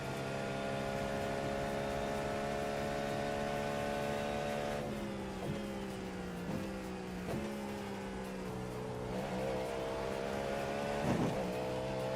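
A race car engine drones steadily through a lap in a sim racing game, holding a sustained high tone with a few quick downshift dips and rises midway, even and moderately loud, with no one talking.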